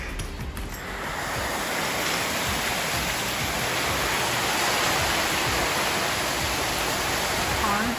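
Heavy rain pours outside in Cozumel, a steady dense rushing wash of water that fills the background continuously for the whole stretch.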